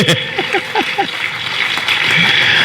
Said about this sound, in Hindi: जोरदार ताली बजा लो